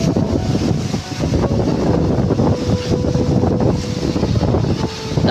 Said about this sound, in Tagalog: Lakas talaga ng hangin mga par.